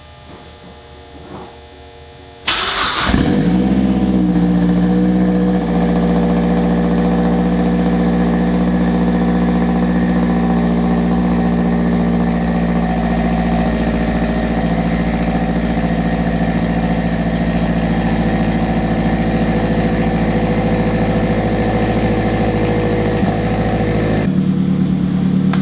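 A big-turbo Mazdaspeed 3 engine starting for the first time, then idling steadily with a low, even hum that starts abruptly after a quiet moment and runs unchanged, close and loud.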